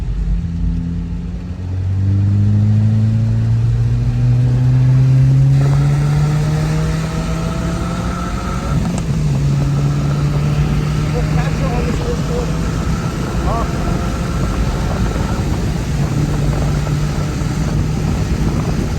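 A 2022 Subaru WRX on all-season tyres races a V8 Ford Mustang around a wet track, its engine rising and falling through gear changes, fairly loud and close, with people talking over it.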